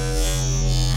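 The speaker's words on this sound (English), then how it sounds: "it's going to cut out all the even overtones and just leave the odd overtones" Synth wavetable tone run through Squarify processing, leaving only odd overtones for a hollow, square-like buzz; a steady sustained note, loud and alone, lasting about a second.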